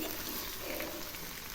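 Vegetable fried rice ingredients sizzle in a pan as they are stirred, a soft, close, steady frying hiss with faint scraping and no talk.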